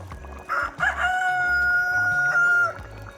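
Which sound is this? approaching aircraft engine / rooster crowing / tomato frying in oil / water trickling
rooster crowing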